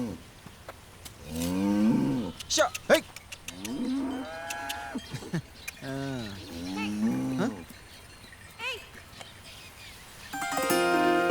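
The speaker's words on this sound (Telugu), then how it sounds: "ఆవులు పక్కకు జరగండి." Several cows moo repeatedly, some deep and drawn out, with shorter calls in between, against a noisy outdoor background.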